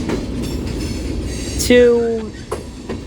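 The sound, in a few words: Union Pacific mixed freight train passing with tank cars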